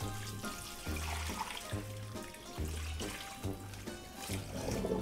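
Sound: washing May Queen potatoes under running water

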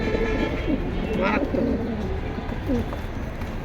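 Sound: khaki military pigeons

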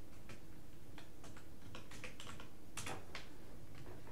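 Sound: typing a terminal command on computer keyboard

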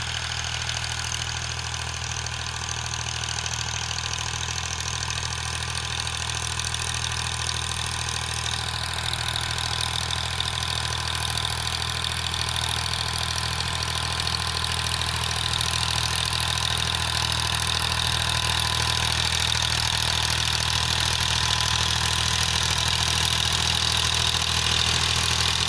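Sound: Powertrac 445 tractor engine idling, 2014 model

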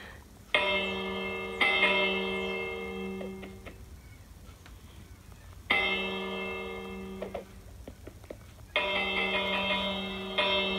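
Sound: bell ringing repeatedly in Minecraft video game

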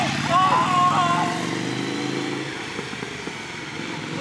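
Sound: motorcycle engine revving and riding off

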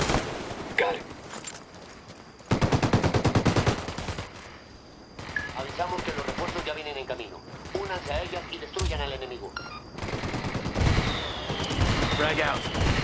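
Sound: gunfire in the video game Ghost Recon Wildlands

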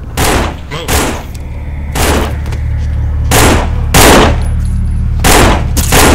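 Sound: gunfire from the video game No More Room In Hell

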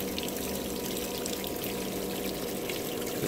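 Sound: Intex sand filter pump running, pumping out water

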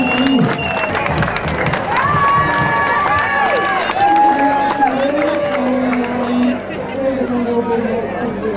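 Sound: crowd applause and cheering

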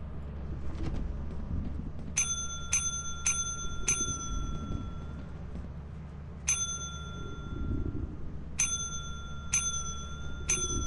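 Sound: bell rung at the Company counter in Lethal Company video game

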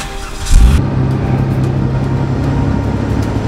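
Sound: Austin Healey sports car straight-six engine revving

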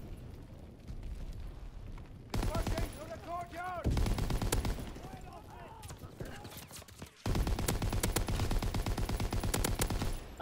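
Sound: light machine gun fire, video game Call of Duty WW2

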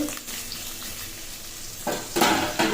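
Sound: bitter gourd (karela) frying in a pan

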